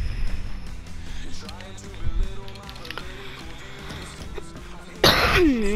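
A single sharp cough bursts out close and loud near the end, over a steady bed of voices and background sound from an NHL 19 hockey video game session.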